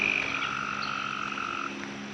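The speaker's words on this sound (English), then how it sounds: "Do you hear the tree frogs?" Tree frogs calling along a wooded 1.5-mile trail in a Tennessee state park, a steady, sustained trilling chorus of overlapping calls with a continuous drone, moderately loud and unbroken with no voices.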